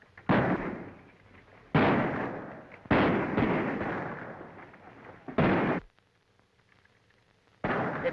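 Loud bursts of gunfire in a war battle scene from an old film, several heavy blasts with rolling reverberant tails, separated by brief lulls and a longer quiet stretch before another burst.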